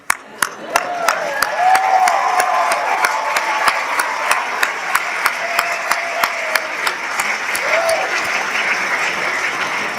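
An audience applauds continuously for Carlos, a dense, steady wash of clapping that stays loud and even, with a few sharp louder claps standing out along the way.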